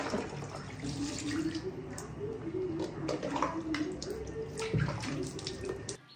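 Face being washed with water at a home tap, continuous running water with splashes and hand movements close by, and a voice murmuring faintly underneath.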